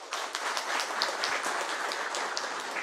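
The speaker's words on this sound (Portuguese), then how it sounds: "Eu gostaria de pedir uma salva de palmas à nossa imprensa aqui presente." An audience applauds members of the press at a public meeting about construction and maintenance work on the BR-285 highway, with steady, dense clapping that fills the room at moderate volume throughout.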